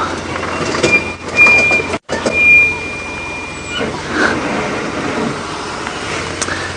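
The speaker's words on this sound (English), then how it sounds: "you can't ease your way when the brakes make the most horrendous noise like they do now" Safari vehicle's brakes give a loud, horrendous squeal as it eases downhill at dawn, a thin sustained whine over rumbling engine and road noise, briefly cut by a gap.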